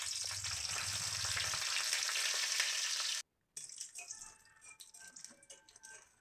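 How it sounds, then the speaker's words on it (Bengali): Bori lentil dumplings frying in oil in a kadai, a loud close sizzle that suddenly drops to a quieter, scattered crackle and popping after a short break. "বড়িগুলো ভাজা হয়ে গেছে"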